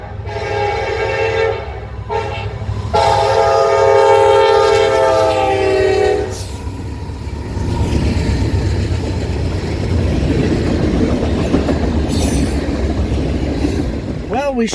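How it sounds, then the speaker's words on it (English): Norfolk Southern Lackawanna Heritage Unit NS 1074, built in 2012, passing at Unadilla, New York: a loud sustained horn blast, then heavy rumbling roar and rail clatter as the train rolls by close, with voices over it. "We beat the train to Unadilla, New York."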